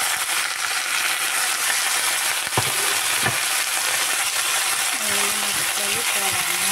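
Potato curry frying steadily in a pan, with a couple of sharp clinks and spoon knocks as chopped tomatoes go in, a continuous sizzle throughout.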